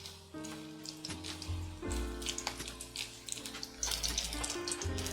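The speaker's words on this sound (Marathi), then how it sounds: "नंतर त्या अख्ख्या मिरच्या आपण स्वच्छ धुवून घ्यायच्या त्या" Whole green chillies being rinsed clean under running tap water for chilli fritters, a steady splashing stream with a continuous tonal hum underneath and no talking.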